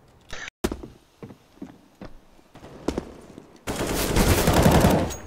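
Video game gunfire rings out in sharp bursts, a few spaced shots early on, then a loud, dense stretch of rapid firing during the last second and a half.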